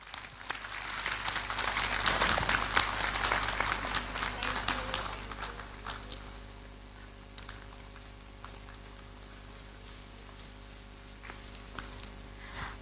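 Audience applause at a kindergarten annual programme welcoming the school principal, swelling loud for a few seconds then thinning to scattered claps over a quiet hall hum.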